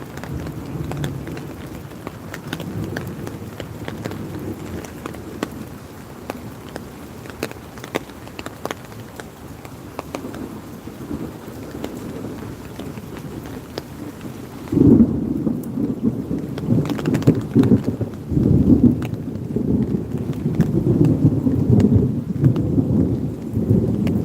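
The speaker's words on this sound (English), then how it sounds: "Thunder sound is great." Thunder rumbles through a rainstorm at Cypress Slough Preserve in Florida, a steady wash of rain beneath low, rolling peals that swell louder about halfway through; no voices.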